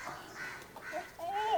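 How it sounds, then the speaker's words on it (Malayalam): Short bursts of goslings calling, a few squeaky quacks close by, the last one louder and drawn out. "ഇതാണ് നമ്മളെ വാത്തക്കുട്ടികൾ കേട്ടോ"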